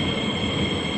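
A train on the Changi Airport line rolls into a station with a steady rumble and a high, sustained wheel squeal, close and continuous.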